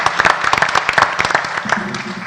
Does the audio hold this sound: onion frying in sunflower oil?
no